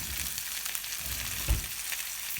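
Pork chops frying in a pan, salted on top, giving a steady close broadband sizzle that holds even throughout with a brief bump of crackle partway.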